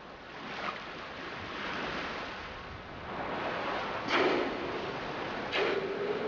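Surf rolls steadily onto a warm tropical beach in Trinidad, with a continuous wash of breaking waves and wind and a couple of brief sharper splashes near the end.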